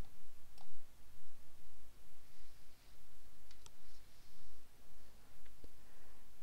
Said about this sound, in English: I'll click OK for that, and just going to click on Run